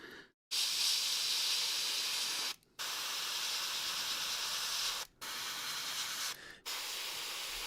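An airbrush sprays paint onto a large miniature model held about half an inch away, a steady close hiss in three long bursts separated by brief pauses.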